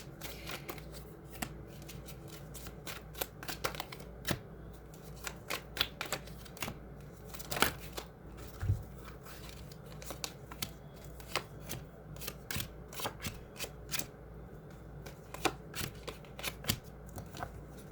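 Tarot cards are shuffled close up in a steady run of crisp riffling clicks and snaps, irregular but continuous, with no talking.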